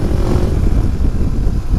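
Kawasaki Versys motorcycle with a non-original exhaust, engine running steadily at close range with a loud, rough low rumble that barely changes pitch.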